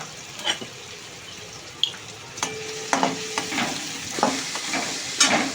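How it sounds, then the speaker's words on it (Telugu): Onions frying in hot oil in a pan, a soft steady sizzle broken by several sharp spoon taps and stirring scrapes nearby. "ఆయిల్ కాస్త వేడెక్కిందంటే ఆనియన్స్ ఫస్ట్ వేసేద్దాం"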